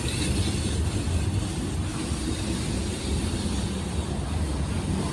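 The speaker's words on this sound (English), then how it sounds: "as the last cars of this train roll through the Old Fort loops, it marks the end of an era" A long, heavy Norfolk Southern freight train rolls through the Old Fort loops on the Asheville District, a steady low rumble with faint metallic clatter of cars passing at a moderate distance, with no talk.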